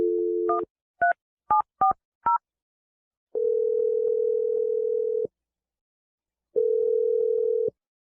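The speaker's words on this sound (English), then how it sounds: "I'm going to dial Adam's phone number right now." Telephone keypad tones tap out a number in a quick irregular burst of short beeps, followed by two long, steady ringback tones separated by a pause, clear and close with no talking.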